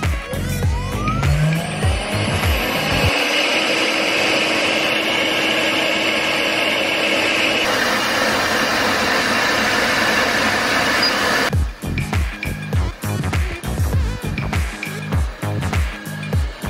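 An Alphawise Robot X5 window-cleaning robot's suction motor runs as a loud, steady whine that holds for most of the stretch, then cuts off near the end, leaving scattered clicks and handling knocks.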